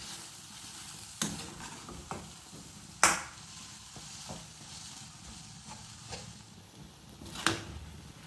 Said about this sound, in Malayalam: ഇതിലേക്ക് നമുക്ക് ചതച്ച് വെച്ചിരിക്കുന്ന അരപ്പ് ചേർത്ത് കൊടുക്കാം ഇത് നമുക്ക് മിക്സ് ചെയ്ത് കൊടുക്കാം